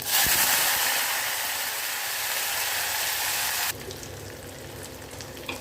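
Mustard seeds, cumin, onions and curry leaves fry in oil in a pan for a Tamil brinjal and bean kara kuzhambu, giving a loud, steady sizzle that suddenly drops to a quieter crackle partway through.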